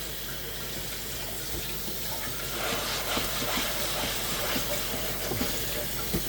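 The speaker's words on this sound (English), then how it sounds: "Gotta wash our cutting board real quick because we're gonna need it." Tap water runs steadily over a cutting board that held cooked meat, getting louder about halfway through as the board goes under the stream, with scattered splashes and knocks in a home kitchen.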